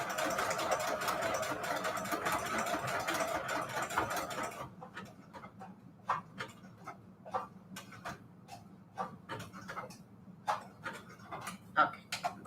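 A sewing machine runs steadily for about four and a half seconds, stitching fabric onto manila tags on its longest, widest stitch setting, then stops; a string of sharp ticks and clicks follows as the work is adjusted.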